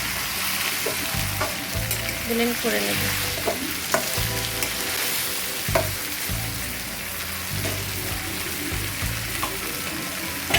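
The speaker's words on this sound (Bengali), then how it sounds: "মাংসগুলো খুব ভালোভাবে ভাজা হচ্ছে" Chicken meat fries in a pan with a steady, crackling sizzle while a spoon scrapes and stirs it in repeated bursts, close and moderately loud, with a brief spoken remark at one point.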